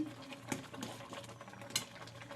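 A spoon scrapes and knocks in a pan while thick tomato chutney with dates, cashews, raisins and mango leather is stirred over low heat, soft uneven clatters over a faint simmer.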